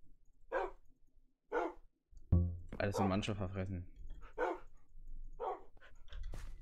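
Minecraft dogs barking in a German Skywars match, several short barks spaced through the clip, with someone talking between and over them.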